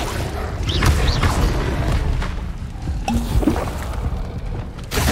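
Incendio fire spell cast in the Hogwarts Legacy video game, a dense burst of whooshing flame and booming impacts layered with game effects, loud and continuous over several seconds.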